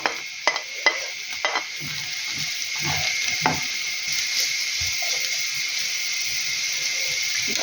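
Onion and carrot fry in a pan with a steady close sizzle, opening with several sharp clacks and scrapes from stirring, with no voices.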